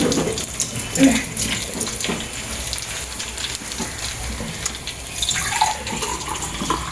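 Tap water runs steadily into a glass or vessel while measuring water for veg biryani, a close continuous splashing stream with a couple of brief clinks.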